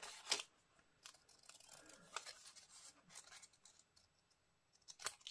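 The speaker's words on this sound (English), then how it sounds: "And just cut around the edges." Scissors snip around the edges of a piece of paper card, producing faint, scattered crisp cuts in a quiet room.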